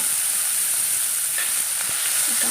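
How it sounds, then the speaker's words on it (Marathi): Didki bean pods roasting in oil on a hot griddle, a close, constant sizzle with an even hiss and faint crackles throughout. "मस्त सोनेरी रंग येईपर्यंत या शेंगा भाजून घेऊया"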